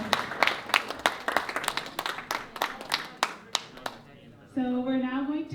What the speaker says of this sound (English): Let's give another big round of applause for